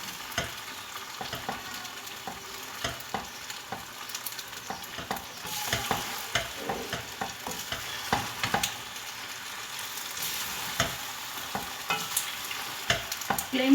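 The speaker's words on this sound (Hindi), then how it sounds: "मैकरोनी डालने के बाद इसको अच्छी तरह से मिक्स करेंगे।" Macaroni stirred through fried masala in a hot pan, with steady scraping of the spoon and a continuous low sizzle, close and moderately loud with no talking.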